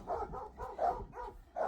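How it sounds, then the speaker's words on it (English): Several dogs bark in the background in a repeated, uneven series of medium-loud woofs, with no speech over them. "Sorry about the dogs."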